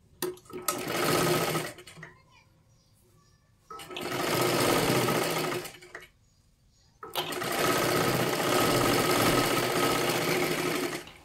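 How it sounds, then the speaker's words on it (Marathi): A sewing machine stitches a katori blouse in three long, loud runs of steady whirring, broken by short near-silent pauses, close up with no talking. "आपल्याला इथे सुद्धा पूर्ण शिलाई मारून घ्यायची आहे."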